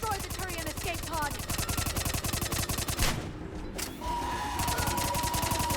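Rapid automatic gunfire in the video game Mass Effect 3, dense bursts of shots hammering almost without pause, briefly breaking off in the middle before the firing resumes loudly.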